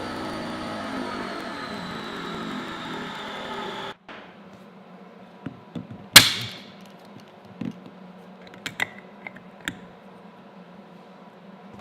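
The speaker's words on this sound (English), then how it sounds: "Well, I really like that compressor." Electric air compressor inflating the seats of a folding bag-stored boat, a steady droning whir for about four seconds that cuts off, followed by a sharp hiss and scattered clicks and handling noises.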